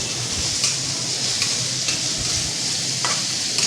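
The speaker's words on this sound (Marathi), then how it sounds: "कांदा आपल्याला परतून घ्यायचा आहे, चांगला गुलाबी रंग चांगला परतून घ्यायचा आहे." Onion sautéing on high gas for a spicy brain chutney, a steady close sizzle running throughout with occasional soft scrapes of a spoon stirring in the pan; no talking.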